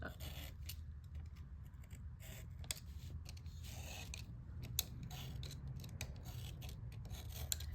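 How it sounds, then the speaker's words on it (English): Craft knife blade cutting through cardboard to remove a window, a quiet close scraping and rasping with repeated short strokes, faint and unaccompanied by speech. "I'm just gonna take the blade down through and I'm just gonna slice that out"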